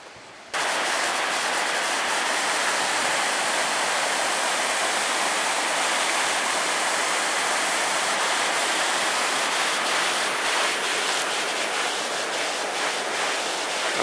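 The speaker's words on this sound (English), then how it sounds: "Let's hope the falls are falling." A waterfall in a national park near Port Welshpool, Victoria, on a cold, wet day roars steadily and loudly as a dense, unbroken rush of falling water, with no voices over it.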